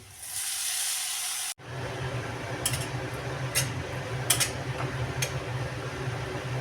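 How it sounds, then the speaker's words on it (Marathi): Spring onions, chili powder and turmeric fry in hot oil for a spicy Khandeshi brinjal bharit. A steady, close sizzling hiss stops briefly near the start, then carries on with a few soft crackles and pops. "थोडंसं कलरचं तिखट घालूया हळद छान असं फ्राय करून घेऊया कांद्याची पात घालूया"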